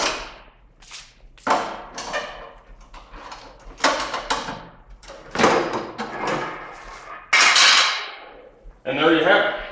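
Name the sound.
1/2-inch ratchet tightening shock adjuster bolts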